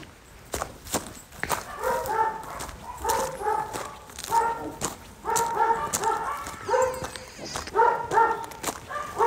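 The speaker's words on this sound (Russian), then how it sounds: "Она просто лает, лает без конца." A dog barks again and again close by, short uneven bursts of barking and yipping running throughout with little pause, amid clattering room noise.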